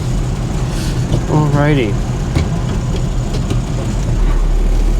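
A 1964 Pontiac GTO's V8 idles with a steady, loud low rumble close by, and a brief voice speaks over it early on.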